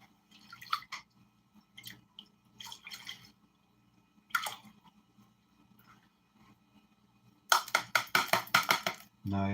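Water and gold flakes from a pan are squeezed into a snuffer bottle, giving faint, sparse drips and small splashes. A louder burst of rapid gurgling squirts comes near the end.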